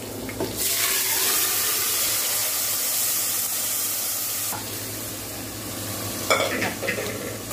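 Chana dal and tomatoes fry in a pan, giving a steady loud sizzle throughout with faint stirring scrapes near the end.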